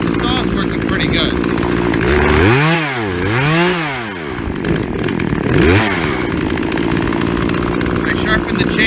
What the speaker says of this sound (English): the saw is working pretty good